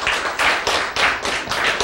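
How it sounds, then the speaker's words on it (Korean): A church congregation claps together during a sermon, a dense, steady rhythm of about three bursts per second, loud and close with many hands overlapping. "예, 박수 치세요."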